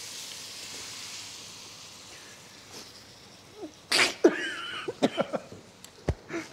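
A few sharp sneezes burst out in quick succession against a steady sizzling of sambal frying in a pan.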